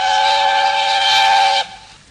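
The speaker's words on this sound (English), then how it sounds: "Presently, he heard a whistle." A steam locomotive whistle blows steadily for about a second and a half, bright and sustained, then cuts off sharply leaving faint background hum.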